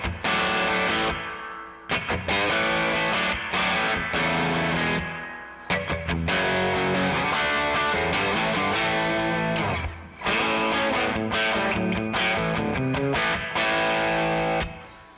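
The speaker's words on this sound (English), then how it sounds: "So I'm playing my Danacaster Jazzmaster, and this is what it sounds like." A Danacaster Jazzmaster electric guitar played through a Boss Fender '63 spring reverb pedal and overdrive, loud, distorted chords strummed in rhythmic bursts with short pauses, alone with no voices.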